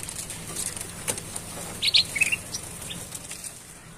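Young golden bulbuls flutter and chirp in a bird shop, soft wing flaps and a few short, bright chirps clustered in the middle, close and fairly quiet over faint background noise.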